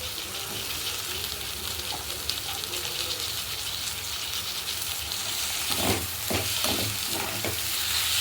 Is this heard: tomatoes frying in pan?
yes